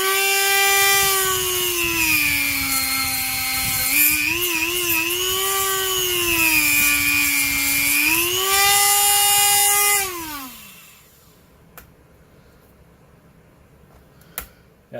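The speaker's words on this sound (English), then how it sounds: "I know I do a lot of work with my Dremel tool" A Dremel rotary tool whines loudly and continuously as it cuts away plastic tabs on an HPI Wheely King RC truck, pitch dipping under load, then spinning down and stopping, leaving near silence with a few small clicks.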